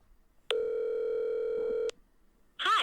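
A telephone call rings out before reaching voicemail: a single steady electronic ringing tone sounds clearly for about a second and a half. After a short quiet gap, a recorded voice begins.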